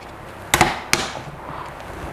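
A steering wheel trim piece on a Mitsubishi Evo X clicks into place with two sharp plastic snaps close by, followed by faint handling noise.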